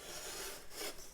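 A utensil scrapes across flaky freeze-dried goat's milk in a pan, producing a steady, close, dry rasping rub that lasts about a second.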